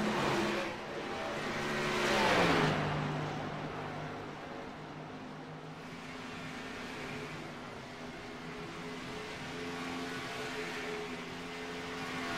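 Race cars on the track at Darlington Raceway, a distant engine drone with one car's pitch rising and falling as it passes, then a continuing steady hum of the field.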